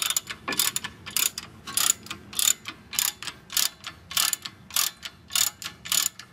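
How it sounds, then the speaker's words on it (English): Repeated ratchet clicking while a bolt on a Lexus IS rear brake is loosened: about a dozen close, evenly spaced bursts of crisp metallic ticks, steady and rhythmic, with no talking. "just remove it and put it on the ratchet. And then finish it with the ratchet."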